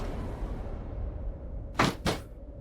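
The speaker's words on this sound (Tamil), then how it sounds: "அவங்க போனவன கதவை சாத்தி தாப்பால் போடுறாங்க" An indoor door is pushed shut and bolted, heard as two sharp close knocks in quick succession over a steady background hum.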